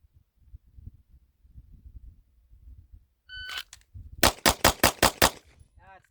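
Pistol shots in a timed shooting drill with a weighted Limited Optics competition gun. A short electronic timer beep comes first, then six sharp, loud gunshots fired in quick, even succession, close to the listener.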